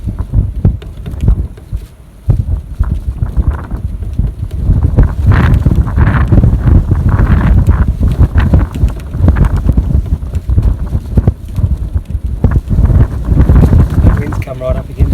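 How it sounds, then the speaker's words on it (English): Wind buffets a microphone outdoors during plein air painting in the Australian outback, a loud, gusty rumble that comes in uneven bursts and dominates the clip, dropping briefly before returning strongly. "the wind's come across me a bit"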